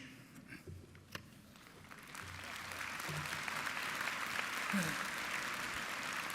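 Applause from a commencement ceremony audience after a poem swells and holds steady, a broad wash of clapping from a large crowd heard at a distance after a brief sharp tap.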